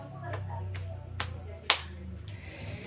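A classroom of students gives a short burst of claps, several sharp separate claps in loose rhythm at moderate distance over a low room hum.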